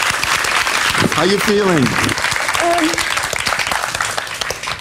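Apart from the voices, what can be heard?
audience applause after hovercraft demo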